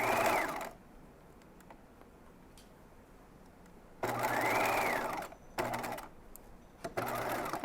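Sewing machine stitching a dress seam, with a loud whirring run, a pause, then shorter start-stop bursts as the seam is backstitched, close up, with no talk.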